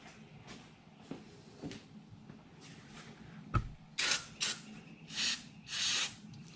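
Brake cleaner sprayed into the clutch master cylinder of a 1984 C4 Corvette: a few soft clicks and handling noises, then several short, loud bursts of aerosol spray hissing close up, the last one longer.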